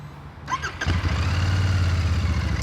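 A Royal Enfield Shotgun 650 parallel-twin motorcycle engine is started up close: a brief starter whine and cranking, then the engine catches and settles into a loud, steady, lumpy idle.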